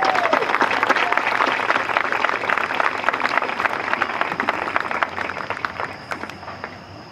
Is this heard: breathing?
no